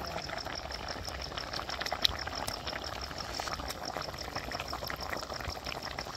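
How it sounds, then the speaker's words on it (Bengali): Curry broth with cauliflower bubbling steadily in an uncovered pot, a continuous soft hiss and gurgle at even loudness throughout, no voices. "ঝোল ভালো করে ফুটছে, সব কিছু সিদ্ধ হয়েছে ভালো করে।"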